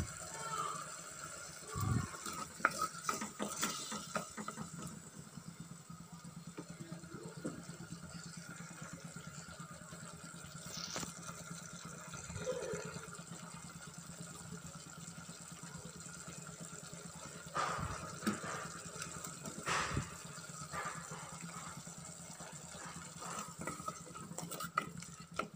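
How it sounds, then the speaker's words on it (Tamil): Tomatoes soften in a pan for an anchovy fish curry, a quiet, steady sizzle with occasional clinks and scrapes of a utensil against the pan. "இப்போ தக்காளி நல்லா வதங்கட்டும்."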